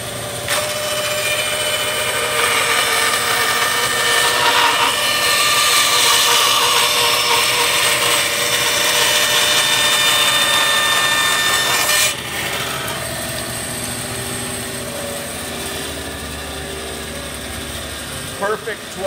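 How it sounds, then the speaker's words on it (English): A bandsaw cutting long scarf joints into wooden canoe chines, a loud steady mechanical whine and blade rasp that drops off near the end, leaving a lower motor hum. "I'm going to turn on the bandsaw."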